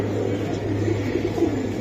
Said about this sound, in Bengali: এটা কালো বাঘা কবুতর ভাই, কালো বাঘা কবুতর খুবই সুন্দর।